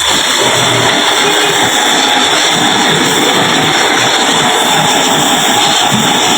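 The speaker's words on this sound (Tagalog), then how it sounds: "Makina ng Pajero V6." Mitsubishi Pajero V6 6D27 engine running steadily, a loud, continuous mechanical roar with a constant whine, heard up close with no voices over it.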